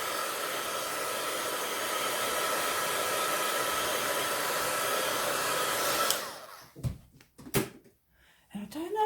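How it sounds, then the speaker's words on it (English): A crafting heat tool blows a loud, steady rush of air for about six seconds while drying stamped ink, then cuts off, followed by a few scattered knocks and handling sounds. "I'm going to dry that with a heat tool"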